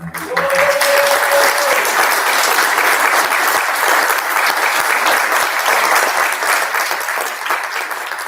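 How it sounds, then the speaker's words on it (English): An audience at a final conference claps for host Helena, a steady, even wash of applause lasting several seconds at consistent loudness, with a brief tone sounding at the start. "I think she deserves a special applause"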